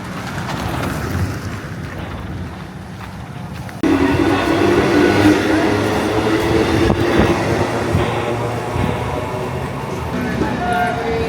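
Suburban passenger train ride toward Titagarh station, heard from inside the carriage: a steady rumbling roar with rhythmic wheel clatter that grows louder partway through, with faint voices underneath.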